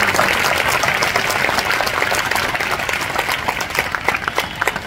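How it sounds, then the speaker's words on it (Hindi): A church congregation at a large Christian convention claps loudly together, a dense, sustained roar of hands that runs the whole time and slowly tapers, with no speech over it. "जोर से ताली बजाकर प्रभु से धन्यवाद करें।"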